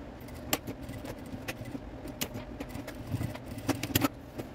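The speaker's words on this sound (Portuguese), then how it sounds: "Agora vamos tirar todos esses alfinetes aqui." Sewing pins are pulled one by one from the fabric of a tote bag, giving faint scattered metallic clicks and light tinkles over a quiet room background.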